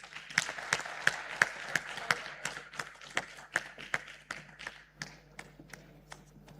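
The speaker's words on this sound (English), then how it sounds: "another round of applause for such a very wonderful panel" Sparse, scattered clapping from a small audience at a national safe motherhood conference, honoring a panel: distinct individual claps at a fairly quiet level, thinning out toward the end.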